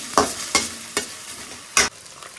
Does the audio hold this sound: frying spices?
yes